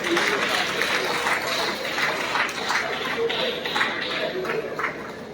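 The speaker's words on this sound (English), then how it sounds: "Another round of applause for Reverend Father Brakindo." An audience at a governorship candidates' peace accord signing in Osun State, Nigeria, applauds with steady, moderately loud crowd clapping, a little voice chatter mixed in.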